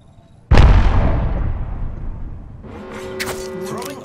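An Arcstar grenade in Apex Legends detonates with a sudden loud boom that decays over a couple of seconds, followed by crackling electrical bursts and a rising whine.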